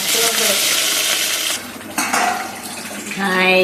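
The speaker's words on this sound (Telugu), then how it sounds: "ఇప్పుడు కరివేపాకు వేస్తున్నా చూడండి" Curry leaves dropped into hot oil for a biryani masala tomato curry give a loud, close sizzle and crackle, broken briefly by a clatter of a spoon against the pan before frying surges again.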